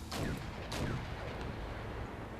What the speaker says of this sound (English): we seem to have some more artillery here, which are French artillery actually